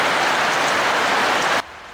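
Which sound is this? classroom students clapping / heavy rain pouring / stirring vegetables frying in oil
heavy rain pouring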